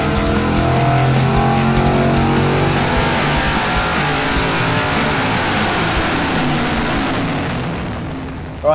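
A naturally aspirated small-block V8 on an engine dyno during camshaft testing roars loudly at sustained full power for most of the run, then tapers off and cuts out near the end.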